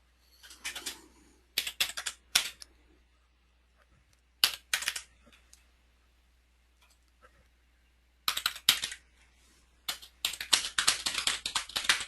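Typing on a computer keyboard close by, in short bursts of quick clicking keystrokes separated by quiet pauses, with a faint steady hum underneath and no talking.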